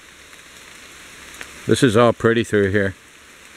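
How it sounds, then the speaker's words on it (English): Rain falls steadily beside a rice paddy in Bohol, Philippines, a constant soft hiss with someone briefly speaking over it. "Right now I'm stopped because of the rain"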